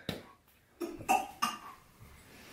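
A dog gives a few short, dry hacking coughs, quiet and close, spaced over a couple of seconds.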